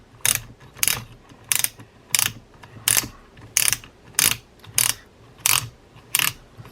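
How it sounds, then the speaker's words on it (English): Sharp ratchet clicks from a Daiwa AG2600X spinning fishing reel being worked by hand, about ten distinct clicks in a steady rhythm, close and crisp with no talking. "the click, click, click you're hearing is the little piece on that ratchet"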